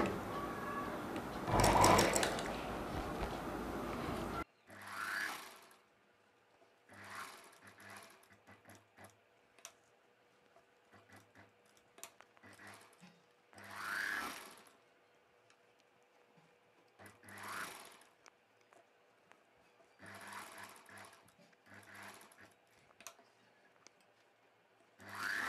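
Sewing machine stitching a long dress, bursts of rapid mechanical whirring starting and stopping repeatedly at close range, with a louder rustling or handling noise at the very start and quiet pauses between runs.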